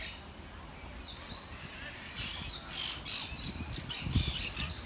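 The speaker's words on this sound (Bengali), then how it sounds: "পাখির ডাক শুনবেন আপনারা" Birds call and squawk at Birmingham Botanical Gardens, a steady stream of chirps and harsher squawks carried over a noisy, busy background, with people talking nearby.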